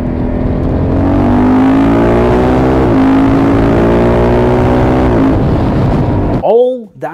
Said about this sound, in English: when you accelerate hard and you hear how the bike is matching